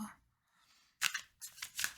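Quick papery riffling bursts of tarot cards, a couple of brisk shuffles close by after a faint soft rustle, no talking.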